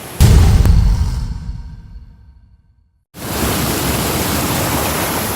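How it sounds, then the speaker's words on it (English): A large waterfall roars as a dense, even, full-spectrum rush that kicks in loudly after a short silence and holds steady. A different noise fades away just before it. "I'm standing here next to the world's largest waterfall"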